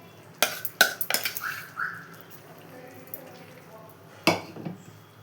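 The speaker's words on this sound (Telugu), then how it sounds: "ఇప్పుడు పప్పు మెత్తగా ఉడికిపోయింది కదండి దీన్ని దాంట్లోకి కలిపేసుకోవాలి ఇలా కలిపేసుకోవాలి" Soft cooked dal being stirred into a pot for cucumber dal, several sharp metal spoon clinks against the pot followed by quieter wet mixing sounds, close up.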